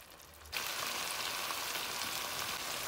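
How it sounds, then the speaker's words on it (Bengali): Beef rezala sizzling steadily in a pan over a low-medium flame, cooking without water; a soft, even frying hiss starts abruptly and continues close up with no talking. "আমি এভাবে 15-20 মিনিট উইদাউট ওয়াটার লো মিডিয়াম ফ্লেমে জিনিসটাকে কুক করব।"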